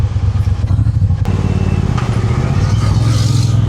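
A Triumph Bobber 1200cc motorcycle rides along roads in traffic near Chiang Mai, with a loud, close engine drone and low rumble, a few clattering knocks and passing traffic noise.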